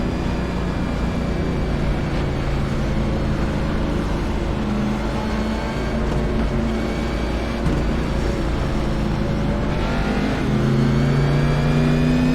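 Race cars in a racing video game lap Bristol's short oval track, their engines droning loudly and continuously, with pitches rising and falling as several cars pass close together.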